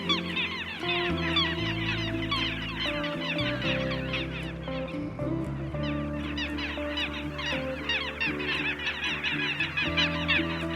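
A large flock of birds at the riverside ghats of Varanasi calling continuously, a dense chorus of honks and squawks with deeper tones underneath, filling the whole stretch without pause.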